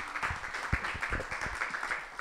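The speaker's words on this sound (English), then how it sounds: "Please give a big Newtown hand clap for Katy, Elizabeth Steele." Audience at an on-stage conversation event applauding to welcome a guest, a dense patter of many hands clapping at moderate volume for a couple of seconds.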